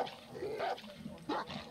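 Dog barks in a Far Cry 6 game scene, two short yapping barks of moderate loudness over low background noise.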